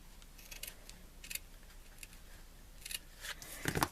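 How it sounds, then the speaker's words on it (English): Scissors snip the loose ends of a tied ribbon knot on a handmade card, a few short crisp cuts spaced apart at close range with no talking. "Then I'm going to take it and I'm going to cut the ends"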